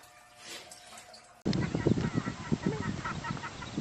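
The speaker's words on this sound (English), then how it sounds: "The two saved ducks came to life shortly after they got a little warmer." Two rescued ducks, freed from ice and warming up, call with busy overlapping honking quacks, close and fairly loud after a quiet start.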